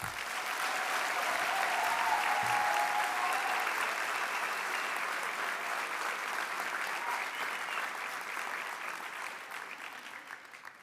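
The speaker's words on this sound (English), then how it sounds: "please give a round of applause again to our professionals" Steady, full applause from an audience at a School of Healthcare Sciences declaration ceremony, sustained for about ten seconds before easing off toward the end.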